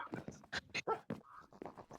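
A dog whimpers and yips in the game Minecraft, several short, close, high-pitched cries in a quick uneven series with brief gaps between them.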